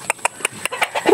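Chickens on a farm cluck in a quick, regular run of about eight short calls, fairly quiet and close by, with no talking.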